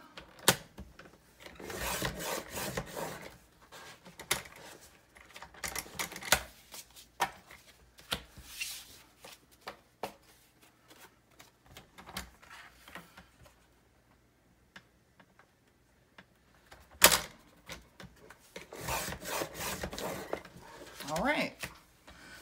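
A paper trimmer slices card stock into strips, producing repeated bursts of scraping and rasping cuts separated by pauses, close up, with a speaker talking between them.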